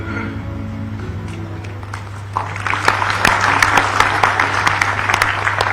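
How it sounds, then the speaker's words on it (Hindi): At the launch of the Jeevan Doot medical emergency app at a government event in Ranchi, a crowd breaks into steady, sustained applause over a constant low hum, rising after a quieter opening. "बिल्कुल जोरदार तालियां बनती हैं इस जीवन दूत ऐप के लिए"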